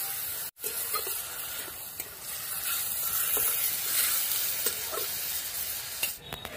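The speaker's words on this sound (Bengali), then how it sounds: "হলুদ দিয়ে দেবো, লবণ দিয়ে দেবো, এবার নেড়ে দেবো" Radish chhechki being stirred in a frying pan with turmeric and salt, a steady close sizzle with soft scraping of the spoon, continuing without a break after a brief gap near the start.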